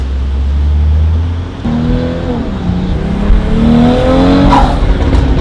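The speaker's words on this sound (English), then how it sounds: "Sounds like you have a blow-off valve." A car engine with a Vargas air intake revs hard and then drops off, followed by a sharp whooshing hiss like a turbo blow-off valve venting, loud and close.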